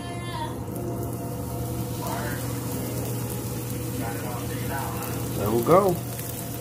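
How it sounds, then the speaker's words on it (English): Red snapper fillet laid into hot oil in a pan crackles with a steady, lively sizzle, with a few short spoken words and a brief louder splash near the end. "we're gonna lay this fish in here and we're gonna get this bad boy crispy"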